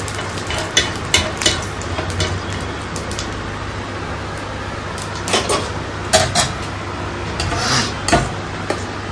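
Fennel seeds tempering in hot mustard oil in a home kitchen fill the scene with a continuous close sizzle, broken by a few clatters of a spoon against the pan.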